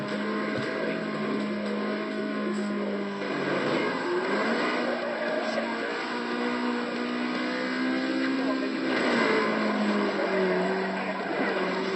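A car in a rainy-weather racing video game drives and revs, a steady droning engine tone that rises and falls in pitch, with a person talking over it.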